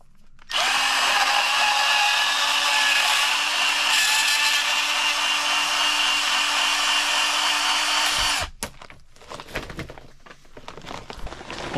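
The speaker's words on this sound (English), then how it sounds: "My little trusty bandsaw." A small bandsaw runs steadily for about eight seconds with a bright, even whine as it cuts through a marked workpiece, starting abruptly and then cutting off into quieter shop handling noises.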